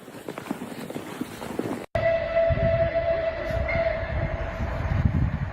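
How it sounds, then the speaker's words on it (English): A normal train rushes past at high speed, a loud, sustained rumble with a steady tonal whine riding over it, following a brief cutaway. "Damn, boy, that train is flying."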